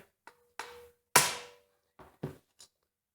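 Several sharp hammer strikes on a valve tool installing exhaust-side keepers on a Kawasaki engine, irregularly spaced, one heavy ringing blow in the middle and lighter taps around it, close and alone.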